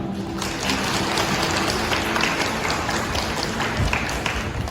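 Wedding guests in a hall break into loud, dense, sustained applause, many hands clapping together close by for the whole stretch without letting up.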